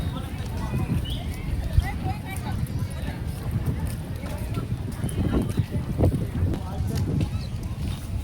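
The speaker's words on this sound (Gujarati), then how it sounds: "પવન બહુ છે" Strong wind buffets the microphone beside the Triveni Sangam river at Somnath, a constant low rumbling roar with gusty surges under faint, indistinct voices.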